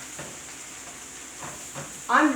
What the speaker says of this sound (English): More or less you're just cooking down the spinach, and this will reduce in size maybe threefold or more.